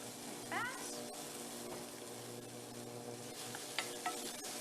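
Food sautéing in a pan for crunch wrap fillings gives a steady, soft sizzle with occasional stirring scrapes and light clinks, running close and continuous behind a faint voice.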